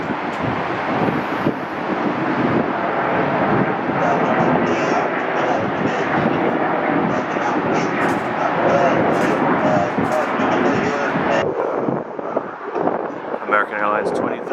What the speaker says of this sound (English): American Airlines 2376 from Dallas, Fort Worth. 8-year-old Airbus A321ceo.